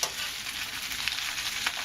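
Thin vegetable leaves stir-fry in very hot oil, a close, steady crackling sizzle with faint scrapes of stirring and no talk.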